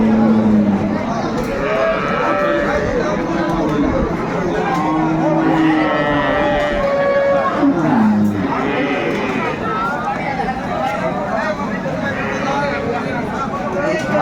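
Dairy cows and calves at Aftabganj cattle market in Dinajpur low and moo repeatedly, mingled with a constant crowd chatter and someone speaking over the lively scene.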